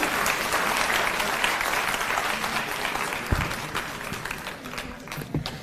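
Sustained applause from an audience welcoming a speaker at a government awards ceremony for International Women's Day, loud dense clapping that gradually thins toward the end.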